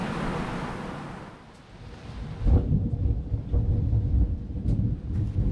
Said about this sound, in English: These storms were becoming more and more frequent